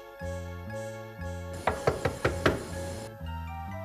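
Five quick, sharp knocks land on a door in a steady burst, close and crisp over background music.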